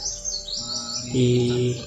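Birds chirp and tweet outdoors in a mosquito-filled area, a run of short high calls through the whole moment, with a lower steady tonal call joining near the end.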